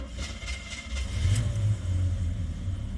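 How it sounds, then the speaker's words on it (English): An old pickup truck's engine cranks and catches, then settles into a low, steady idle rumble, heard close and fairly quiet without any talking. "truck starts. That's not even my foot on the pedal, just turning it over."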